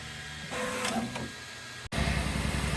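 A Bambu Lab X1 Carbon 3D printer whirs and buzzes nearby, its motors shifting pitch as the head moves fast, with a brief dropout before it resumes.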